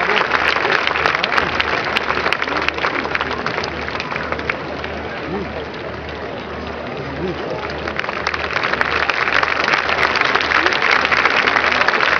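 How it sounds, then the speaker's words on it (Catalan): Loud, dense audience applause at an outdoor havaneres singing concert in Calafell on the Costa Daurada, a continuous wash of clapping lasting the whole stretch, with steady low rumble beneath. "aquest fort aplaudiment merescut per un inici de cantada"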